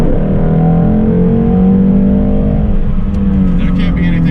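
A 2016 Ford Shelby GT350 engine revs loudly and close, a strong sustained roar whose pitch sweeps as the revs climb and ease off, with brief faint sounds near the end.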